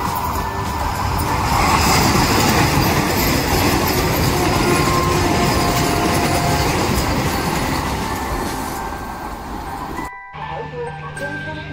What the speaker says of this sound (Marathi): तर मित्रांनो ज्या ट्रेनची आपण वाट बघत होतो ती ट्रेन फायनली आता येत आहे टायमिंगवरती.